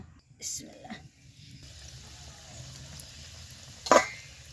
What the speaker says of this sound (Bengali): এই পিঠাগুলো তেলে এক এক করে দিয়ে দিব